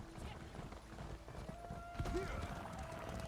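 Rhythmic hoofbeats of a horse galloping in The Elder Scrolls Online, steady and fairly close, with a brief whinny partway through and some faint background sound.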